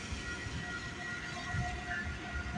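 A southbound manifest freight train rumbles past steadily in the rain on a rainy morning, a faint, continuous rolling drone heard from a distance.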